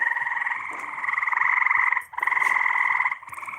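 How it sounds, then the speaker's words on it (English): Two mating frogs croak in a continuous, rapid pulsing trill, loud and close, with one brief pause before the calling resumes. "it's not every day you see two frogs fucking."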